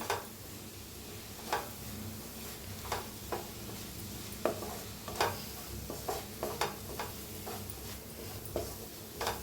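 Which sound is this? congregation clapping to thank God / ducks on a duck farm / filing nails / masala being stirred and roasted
masala being stirred and roasted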